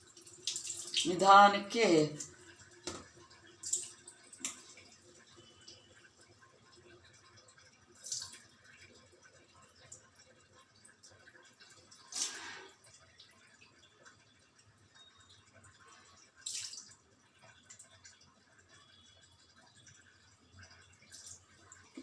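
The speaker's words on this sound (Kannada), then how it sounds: "ಫುಲ್ ನೀರನ್ನು ತೆಗೆದುಬಿಡಿ." Water is drained off soaked rava, or semolina, for idli. It comes as a short splashing pour near the start, then mostly quiet with a few faint clinks and drips, and a voice speaks briefly.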